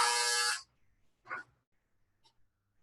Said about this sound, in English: I don't know why they made that buzzer so loud